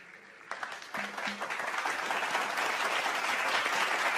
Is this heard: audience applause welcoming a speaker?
yes